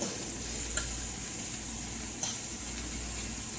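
Sausage and grits cooking down in a pan, giving a quiet, steady sizzle with a faint hiss and a couple of brief scraping stirs.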